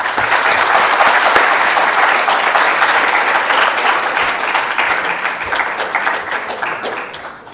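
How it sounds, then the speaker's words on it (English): An audience at a university alumni talk gives a loud, sustained round of applause that swells early and slowly tapers off, with no speech over it. "Join me in welcoming them with a huge round of applause."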